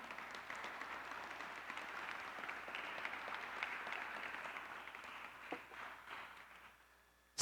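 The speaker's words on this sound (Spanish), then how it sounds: "denle un aplauso al Señor" Church congregation claps in sustained applause during a Spanish-language sermon, a dense, fairly distant patter that holds steady and then fades out near the end.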